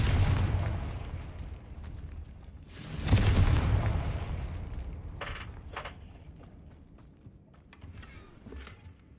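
A Confringo fire spell cast in the video game Hogwarts Legacy: a loud booming blast that rolls into a long rumbling tail, followed by smaller bursts and whooshes.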